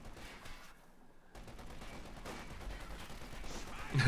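Twin .50 caliber machine guns open up in a tank battle game, a brief quiet gap followed by dense, continuous rattling fire that grows louder toward the end.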